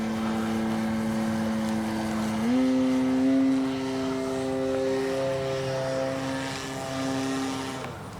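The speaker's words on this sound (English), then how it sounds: "just take off flaps, just a regular takeoff this time" CNHL Bison XT STOL light propeller airplane taking off with regular takeoff flaps, its engine droning steadily then rising in pitch and power as it accelerates, loud and close in the cabin.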